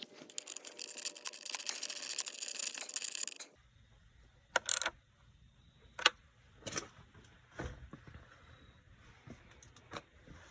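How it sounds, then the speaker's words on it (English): A hand ratchet running down an 8mm bolt on a truck's evap purge area near the alternator bracket, heard as a few sharp clicking bursts and scattered metallic taps after a brief burst of broadband noise. "I'm gonna run it down with that ratchet I had just a moment ago."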